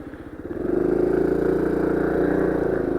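A Honda CT110 motorcycle engine idles with a chugging low thump and then settles into a steady, loud, close mid-pitched drone as the bike rides off.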